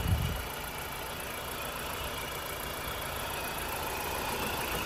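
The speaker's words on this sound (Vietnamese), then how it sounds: "đây là phần máy này, động cơ êm này, động cơ khá êm này, máy lổ tròn tiếng nhá" A BMW 318i engine idles smoothly at close range, a steady even hum with a faint high whine above it and a small thump at the very start.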